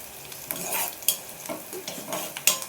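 Green chillies frying and being stirred in a pan for sprouts palya, a steady sizzle broken by several sharp scrapes and clinks of a spoon against the pan, with no voices.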